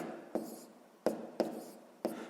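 Pen strokes writing out a step of a 6th-grade maths exercise on paper, four short scratchy bursts spaced about half a second apart, close and quiet with no talking.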